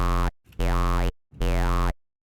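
A Phase Plant synth tone shaped by a formant filter with modulated dynamics mix: two sustained buzzy, harmonically rich notes whose vowel-like resonances sweep up and down, separated by short gaps. No talking.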